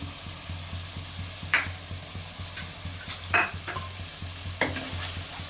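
Chicken pieces for chicken biryani stir-fried in a pan with spices, kewra water, attar and food colouring, giving a soft steady sizzle under rhythmic scraping and stirring, with a few sharper clinks of the spatula against the pan.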